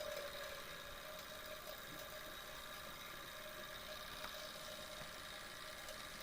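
A small steam engine powering a plant that computes digits of pi runs under load with a faint, steady mechanical hum and rattle, quiet and continuous with no talk.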